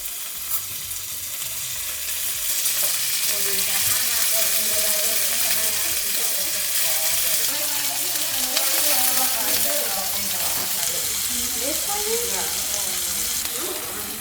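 Bluefin tuna steaks laid into a hot cast iron pan, a steady close sizzle and crackle of searing that swells after the fish goes in, with faint scraping and handling sounds throughout.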